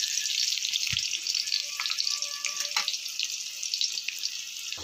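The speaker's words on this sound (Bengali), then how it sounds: "আলুটাকে ভালো করে ভেজে নেবে।" Potato pieces fry in oil in a pan, a steady close hiss of sizzling with a few faint clinks and no voices.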